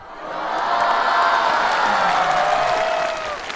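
A stand-up comedy audience applauds and cheers, with whoops and voices swelling over clapping, staying loud for a few seconds before tapering slightly.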